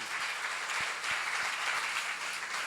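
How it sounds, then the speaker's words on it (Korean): A church seminar congregation claps during a sermon, a soft, steady patter of applause heard at some distance, with a few low thumps underneath. "박수 하세요."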